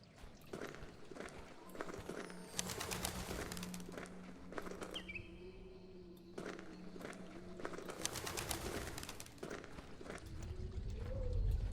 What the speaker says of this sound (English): The bird was unafraid when you entered, but as you approach, it becomes disturbed.